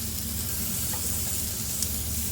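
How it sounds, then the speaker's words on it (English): Steady, close sizzling of ground beef patties frying on a hot flat-top griddle, a continuous crackling hiss with no talking. "Hear that sizzle?"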